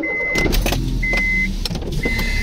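A car's electric window running, a whirring motor hum repeated in three short bursts of about half a second each, close and loud, with no talking.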